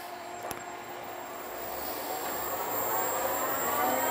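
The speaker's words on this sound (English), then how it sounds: "I'm hearing a high-pitched squeal" An electric car conversion with its clutch released and a little throttle applied spins its wheels while stationary, producing a steady high-pitched drivetrain squeal above a rumbling whir that grows gradually louder, with no one talking.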